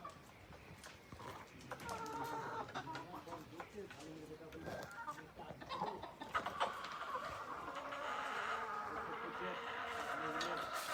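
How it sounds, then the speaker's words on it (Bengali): Broiler chickens at a poultry farm cluck and rustle throughout, a dense flock murmur that builds louder toward the end, with a person talking nearby. "এই পাশে হচ্ছে ভাইয়ের ফার্মি মুরগির খামার"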